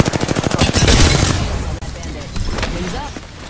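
Rapid automatic gunfire from an Apex Legends match, a dense burst of close, loud shots in quick rhythm that thins out midway, followed by scattered further shots; in-game voice lines are heard alongside.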